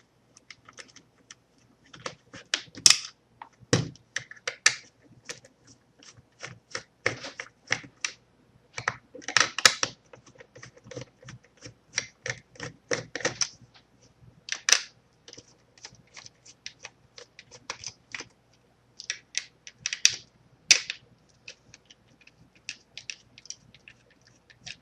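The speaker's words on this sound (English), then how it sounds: "Then you're going to take your T8 security Torx bit. You're going to remove 5 screws." A T8 security Torx bit removes five screws from an Xbox One controller: a long run of small, close clicks, ticks and scraping rattles in irregular clusters, with brief pauses between bursts.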